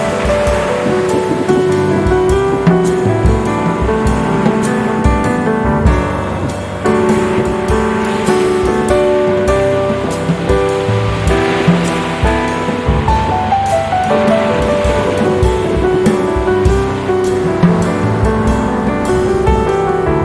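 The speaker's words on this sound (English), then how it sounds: "I wanted you to hear the sound and the waves" Sea waves wash continuously onto the shore beside a seaside terrace, a loud, steady surf roar with rolling swells and no talk over it.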